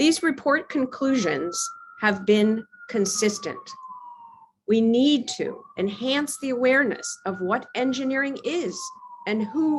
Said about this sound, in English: I apologize for the sirens behind me.